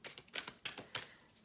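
A deck of tarot cards is shuffled at close range, a few quick soft riffling bursts in an uneven rhythm, quiet and with no voices.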